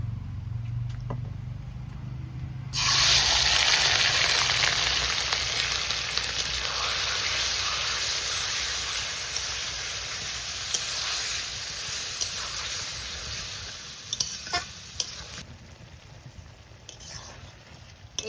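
Shrimp (chingri) frying in ghee for a dopiaza, bursting into a loud, steady sizzle after a brief quiet start, with occasional clinks and stirring, close and without talk.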